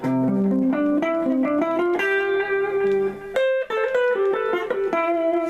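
An Epiphone '59 Les Paul electric guitar played through a small Roland Cube 10GX amp, picking a run of ringing single notes and chords with a slightly boxy, close tone, and no voices.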